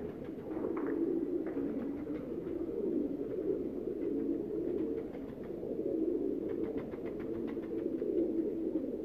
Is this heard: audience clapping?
no